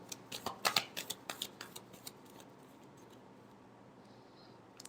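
Tarot cards being shuffled by hand: a run of crisp, close riffling flicks that grows denser and louder for a moment, then thins into softer, scattered slides and fades into quiet room noise. No voices are heard.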